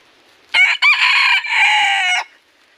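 A red junglefowl rooster crows once, loud and close: a sharp opening note, a brief break, then a long sustained call that cuts off cleanly into silence.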